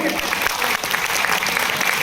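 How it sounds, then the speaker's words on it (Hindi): Audience at a community meeting clapping loudly, a dense, continuous round of applause close by with no speech over it. "एक बार जोरदार तालियां उनके लिए"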